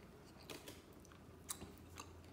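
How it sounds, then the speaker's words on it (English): Soft, close chewing of Black Sphinx dates with a few crunchy bites, moist and quiet against a faint low hum. "Chewing very mindfully because there was another carob seed in there."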